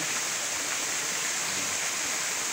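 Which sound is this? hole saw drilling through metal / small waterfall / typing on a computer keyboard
small waterfall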